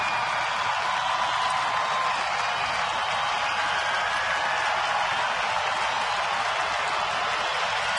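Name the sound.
baseball stadium crowd cheering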